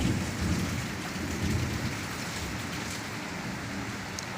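Steady heavy rain pours throughout with a low rumbling undertone, like distant thunder rolling beneath the downpour.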